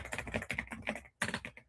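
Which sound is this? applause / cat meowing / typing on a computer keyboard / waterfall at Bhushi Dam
typing on a computer keyboard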